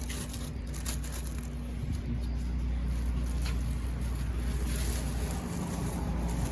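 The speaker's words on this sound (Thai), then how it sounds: "เครื่องยนต์ตัวนี้นี่ขนาด 6กิโลครึ่งครับนะ" A small 6.5 horsepower engine driving a water pump runs steadily with a constant low mechanical drone and broadband hiss, loud and unbroken throughout with no talk.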